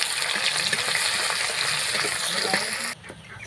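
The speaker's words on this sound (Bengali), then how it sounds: "পেঁয়াজগুলো কিন্তু দেখো আমার ভাজা হয়ে গেছে অনেকটা" Chopped onions fry in hot oil for a mutton curry, giving a steady, close sizzle of bubbling oil that holds at an even level before cutting off abruptly near the end.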